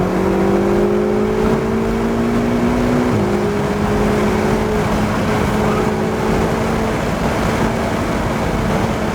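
A Ferrari 488 accelerating on the High Plains Raceway track, its engine a loud, continuous, rising drone heard up close, with the pitch sliding through gear changes over steady wind and road noise, no voices.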